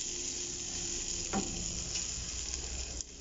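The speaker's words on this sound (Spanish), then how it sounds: "En una ollita caliente vamos a agregar nuestro tocino lo vamos a freír" Bacon sizzles in a small hot pot, a steady close frying hiss with a single soft clink partway through.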